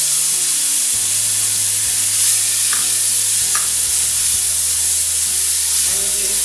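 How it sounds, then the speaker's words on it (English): Chopped tomatoes frying and being stirred in a pan with spices and turmeric for Kutchi dabeli, an Indian street snack; a steady close sizzle runs throughout, with a low cooking hum and a few spoon scrapes. "And we'll fry it until they become mashy."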